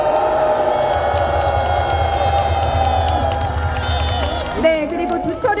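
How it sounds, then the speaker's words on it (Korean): A crowd at a political rally applauds and cheers in a loud, sustained wash of clapping and voices. Near the end, shouts and a voice rise above it. "자랑스러운 우리 당 지도부에게 다시 한번 격려와 응원의 박수 부탁드리겠습니다"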